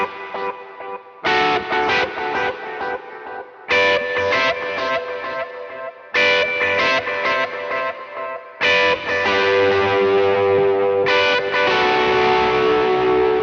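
Electric guitar through a ping-pong delay, played in short strummed phrases separated by pauses, each burst bouncing and repeating before a final sustained, ringing passage.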